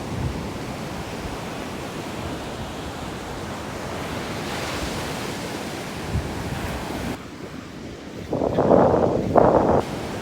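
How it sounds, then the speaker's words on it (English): Ocean waves wash onto a beach at a new, wet tide, a steady broadband roar of surf with wind buffeting the microphone, swelling louder in the final seconds as a wave breaks nearby. "was a lot of waves like that."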